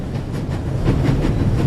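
A train rumbles along at full speed in The Raven Remastered, a steady low roar with faint rhythmic clatter running continuously and close by, with no voices.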